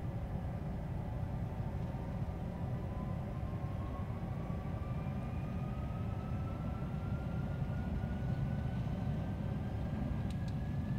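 MD-11 FedEx jet engines at takeoff thrust in Flight Simulator X give a steady, dense roar with a slowly rising whine, constant and moderately loud, with no voices.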